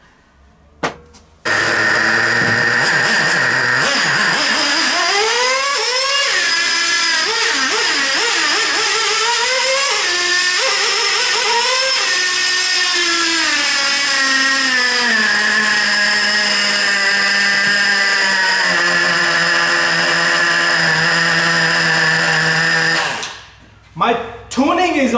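A Traxxas TRX3.3 nitro RC engine runs loudly and steadily for about twenty seconds, its high buzzing pitch rising and wavering as the throttle changes, then cuts off abruptly near the end.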